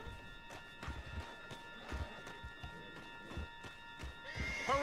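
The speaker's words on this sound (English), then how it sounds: "On John's horse" Horse in Red Dead Redemption 2 gameplay clip-clopping at a steady gallop, rhythmic hoofbeats throughout with a sharp whinny near the end over a faint game music bed.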